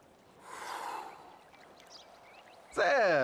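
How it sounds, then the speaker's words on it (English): A long, breathy exhale from Michael during a yoga session in Grand Theft Auto V, soft and airy over a quiet background, followed by a voice speaking at the end. "Breathe, please, Michael. Exhale."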